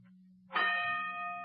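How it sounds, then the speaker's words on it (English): A boxing ring bell used as a radio drama sound effect, a single bright clang that rings on with a long sustained tone over a low steady hum. "There's the bell."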